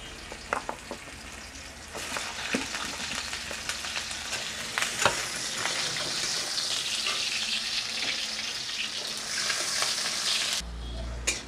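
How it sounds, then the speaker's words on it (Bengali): Papaya pieces frying in oil in a pan while a Bengali shukto is cooked, giving a continuous crackling sizzle with a few sharp stirring knocks, close and alone, then cutting off near the end. "এবার পেঁপেটাকে ভেজে নেব।"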